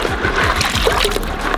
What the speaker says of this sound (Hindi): अब पहला वॉश तो बाल्टी में ही कर लेंगे इसका।